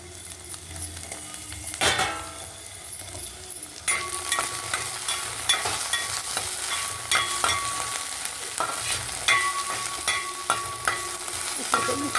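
Green chillies frying in a pan, a steady close sizzle with occasional stirring clinks and scrapes, growing denser and louder partway through.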